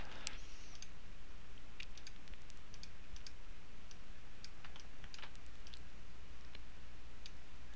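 Keystrokes on a computer keyboard and mouse clicks in scattered, irregular taps sound quiet and close over a low steady hum, with no voices.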